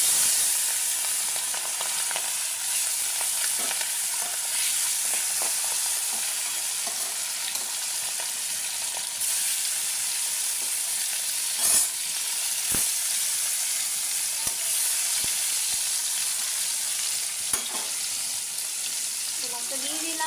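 Hilsa fish pieces slide into hot mustard oil and fry lightly, giving a steady, loud sizzle with scattered sharp pops and crackles throughout, with no one talking.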